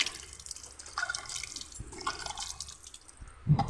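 Tap water splashes and trickles over scraped food pieces being rinsed clean in a home kitchen, with uneven bursts of pouring and dripping that swell toward the end.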